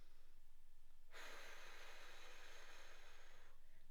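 One soft, close exhale of breath lasting a couple of seconds during a side plank exercise, quiet and airy against near silence.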